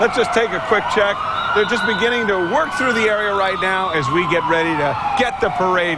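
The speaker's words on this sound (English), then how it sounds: "You can hear the sirens in the background." A siren wails steadily in the background at the Macy's Thanksgiving Day Parade in New York while someone speaks continuously over it, with crowd noise underneath.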